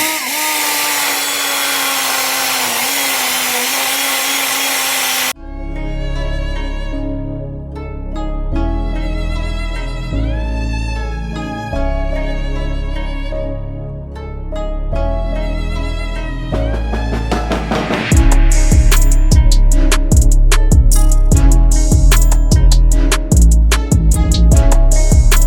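A grinder whines loudly and steadily while grinding out a Chevrolet C10 truck frame for big-block headers. The pitch rises and falls as load changes, and harsh, crackly grinding grows stronger toward the end.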